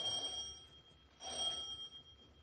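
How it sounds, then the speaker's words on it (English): A doorbell rings twice in a radio drama sound effect, each ring a bright electric tone lasting about a second, clear and moderately quiet with no talk over it. "That was the doorbell again."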